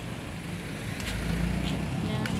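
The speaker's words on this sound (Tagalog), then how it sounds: "May sasakyan po." A car passes on a narrow residential street, a broad rising and falling engine and road rush that swells toward the middle, heard close amid general outdoor noise.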